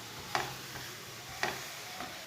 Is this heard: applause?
no